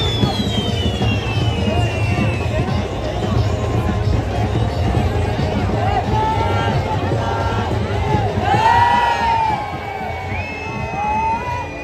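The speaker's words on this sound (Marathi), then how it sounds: "हे बघा प्रत्येकाने जल्लोष केलेलं आहे" A village crowd at a Bahiri Dev arrival festival cheers, whoops and shouts continuously, loud and close, with overlapping voices throughout and a brief quieter dip near the end.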